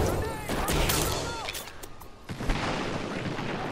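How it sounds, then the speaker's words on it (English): Airstrike explosions in a first-person shooter game, a dense barrage of booms and gunfire-like bursts filling the scene, loud and continuous with a sharp hit near the end, voices talking over the chaos. "They threw an airstrike on us"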